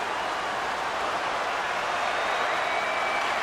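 Crowd noise from the NHL 26 hockey video game during a Philadelphia Flyers home game, a steady dense roar of cheering and applause, loud and even with no break.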